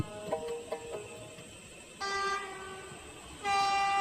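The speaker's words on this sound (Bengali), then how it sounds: "ট্রেনের হুইসেল শোনা যাচ্ছে, তাড়াতাড়ি চল।" A train horn sounds three short toots, then two longer sustained blasts, moderately distant over a steady background rumble.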